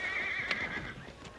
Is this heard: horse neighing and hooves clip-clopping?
yes